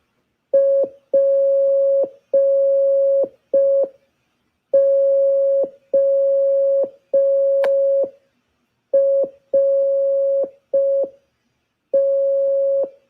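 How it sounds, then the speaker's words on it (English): Morse code tones beeping out a four-letter word: a steady pitched tone keyed into a rhythm of short and long beeps, with pauses between letters, clear and alone. "I'm going to spell a word, and I want you all to write in the comments what word I'm spelling in Morse code."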